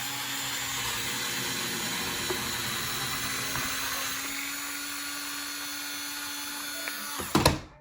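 A drill whirs continuously while unscrewing screws on an RC drift car, a steady high whine close by with small clicks, stopping abruptly with a clatter at the end.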